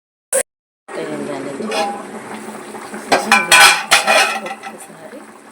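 A spoon scrapes and clinks against a pot while chicken leg curry is stirred, bursts of clattering metal strokes growing busier and louder toward the end, with a faint bubbling simmer underneath.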